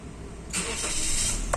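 A Toyota Rush with an immobilizer key cranks and fires up: a short starter whir breaks out of quiet background, then the engine catches and settles into a steady hiss-laden run, with a small click near the end.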